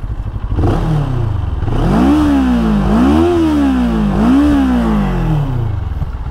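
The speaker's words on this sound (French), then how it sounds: "je vais vous faire écouter la sonorité de la ligne d'échappement" A 2023 CFMOTO 650 NK roadster exhaust revving loudly nearby, rising from idle into three repeated throttle blips that climb and fall in pitch, heard alone without talk.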